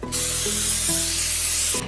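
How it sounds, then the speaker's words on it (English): One continuous hiss of butter spray from an aerosol can onto pizza, close up, steady for nearly two seconds before cutting off. "we're gonna spray with our butter spray."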